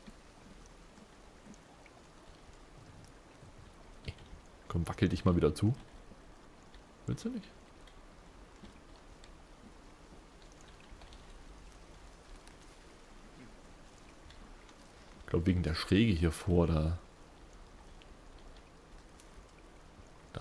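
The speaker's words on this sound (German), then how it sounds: "Ja, es regnet." Steady rain patters throughout a forest setting in the video game Sons Of The Forest, a soft continuous hiss while someone speaks German in two short bursts.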